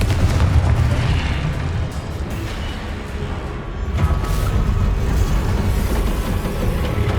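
Repeated Confringo fire-spell explosions boom through a Hogwarts Legacy battle, heavy low rumbling blasts rolling almost continuously and loudly, with a fresh burst about halfway through.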